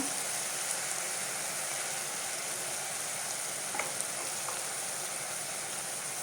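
Ground cumin and coriander sizzle in hot oil for a potato, pointed gourd and egg curry, making a dense, even hiss with faint crackles and one or two soft ticks, close and unbroken, with no speech.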